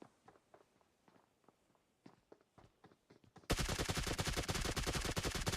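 Distant rapid game gunfire in a battle royale match pops in sparse, quick shots amid footsteps, then a very loud, dense burst of close automatic fire takes over abruptly.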